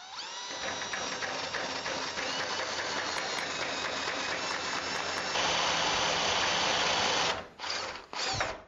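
A drill spinning a worn, dull hole saw against metal on a rear suspension project, a loud continuous whirring grind that shifts partway through, then stops and sputters in brief bursts near the end.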